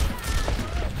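Rapid gunfire in the Overwatch video game plays loudly and continuously through the short stretch, a dense spray of shots under the steady game audio.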